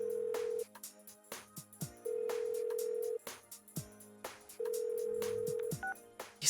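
Phone dialing and ringing in Persona 4 Golden: rapid keypad tones and a repeated electronic ring signal, three long ring bursts separated by short gaps, with small interface blips between them.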